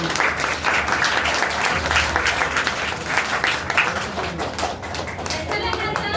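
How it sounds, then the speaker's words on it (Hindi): Dense, steady clapping from an audience after Jadui Chirag, an Aladdin children's play staged by first, second and third grade classes, filling the whole stretch at an even level before thinning slightly near the end. "एक बार जोरदार तालियां होंगी।"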